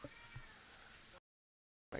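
A house cat meows a few times indoors, a short close cry that stops abruptly and then returns briefly after a moment of silence.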